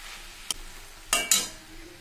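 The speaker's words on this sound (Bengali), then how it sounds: "আর একটু নাড়বো, নেড়ে" Ash gourd curry with lentil dumplings is stirred in a pan, giving a few short utensil scrapes and knocks over a faint sizzle, close and quiet, with no talk.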